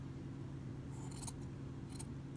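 Scissors snip through cotton shirt sleeve fabric during a sleeve-shortening alteration, two brief crisp cutting bursts close by over a steady low background hum.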